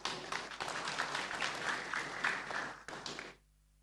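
Audience applause at a university graduation ceremony, a dense burst of hand clapping that holds steady, then tapers and stops abruptly near the end, leaving quiet.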